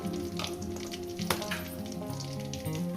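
Cumin seeds crackle and sizzle steadily in a generous amount of hot oil, close and fairly quiet, with a faint clink partway through and no voices.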